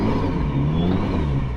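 A turbocharged vehicle climbs a steep track at night in first gear, its engine holding a steady, close, low rumble that swells slightly as it revs.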